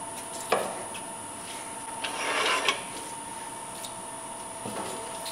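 Sandpaper rubs against a small turned wooden bell ornament in short, soft scratchy passes that come and go. Faint knocks and a steady background hum sit beneath, and nobody speaks.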